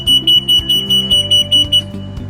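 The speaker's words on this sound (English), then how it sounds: "Once it does, it will alarm your control panel," An oil separator's control panel alarm sounds a loud, repeating electronic beep, about eleven short pulses in a steady rhythm, then stops.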